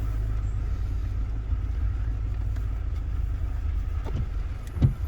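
A Toyota towing rig drives off-road at night on a dark road in the rain, giving a steady, close, low engine-and-road rumble throughout, with a brief louder bump near the end.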